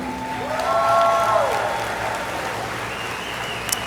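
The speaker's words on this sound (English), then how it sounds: "give a huge round of applause to one another" Graduation audience at a university commencement breaks into a sustained round of applause, a broad wash of clapping from a large crowd that swells early and then holds steady, with a brief voice tone mixed in near the start.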